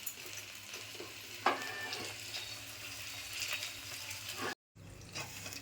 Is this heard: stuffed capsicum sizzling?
yes